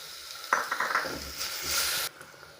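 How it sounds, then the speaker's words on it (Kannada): Chopped onion and tomato fry in a pan for sambar, with a loud sizzle and scraping stirs from a spoon against the metal. The sizzle swells, then cuts off abruptly near the end. No voices. "ಈರುಳ್ಳಿ ಹಾಕಿ ಟೊಮೆಟೊ ಹಾಕ್ತಾಯಿದ್ದೀನಿ."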